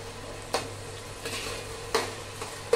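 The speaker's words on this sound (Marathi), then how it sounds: "पनीर छान तळलं जातंय मस्तपैकी." Quiet sizzling of paneer frying in oil, punctuated by a few sharp scrapes and clinks of a utensil stirring in the pan.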